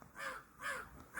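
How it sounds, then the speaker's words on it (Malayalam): A crow caws three times in a steady rhythm, clear and fairly close against a quiet background. "ആ കരയുന്ന കാക്ക"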